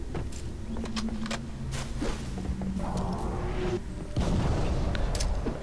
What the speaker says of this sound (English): Gets a nice little nade on him